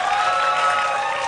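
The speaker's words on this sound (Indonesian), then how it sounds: "Tepuk tangan buat anak-anak muda Jakarta." Audience at Jakarta's first 2024 gubernatorial debate bursts into steady, dense applause, a close, even wash of clapping with a faint murmur of crowd noise and no pauses.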